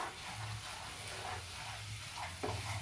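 A spoon stirs a thickening mixture in a pan over a gas flame, giving soft repeated scraping and a steady low sizzle, faint and close, with no voices.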